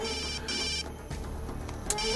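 A mobile phone ringtone plays steadily and loudly, a repeating electronic melody filling the short stretch with no talking.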